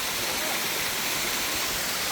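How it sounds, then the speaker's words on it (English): Waterfall at Umpanai Village in Umswai Valley roaring as a dense, steady rush of falling water, loud and close and unbroken, with no voices over it. "This is Stephen, and this is a waterfall."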